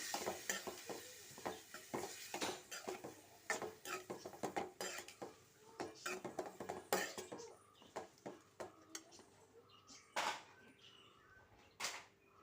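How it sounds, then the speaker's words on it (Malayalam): A spoon stirs chopped bilimbi coated with salt and chilli powder in a bowl for a mild pickle, giving a quick run of soft scraping and clinking strokes, close but quiet, with no talking. "നന്നായിട്ടൊന്ന് ഇളക്കി യോജിപ്പിച്ചെടുക്കാം"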